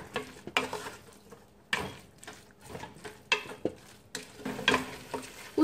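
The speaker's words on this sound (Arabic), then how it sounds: "غادي نحاولوا اننا نشحروا مزيان هاد المقادير او هاد المكونات" Tomato paste and other ingredients being sautéed in a pan, with soft sizzling beneath repeated spoon scrapes and stirring clinks in an uneven rhythm, fairly quiet and close, with no talk.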